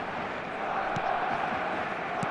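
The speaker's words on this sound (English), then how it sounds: "the crowd are reacting to that now" Simulated stadium crowd in the eFootball video game, a constant broad roar of supporters reacting just after a goal, held at an even level with a couple of faint thumps.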